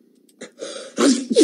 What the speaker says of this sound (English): I just sneezed out Twinkie cream